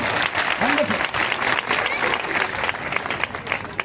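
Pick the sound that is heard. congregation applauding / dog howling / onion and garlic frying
congregation applauding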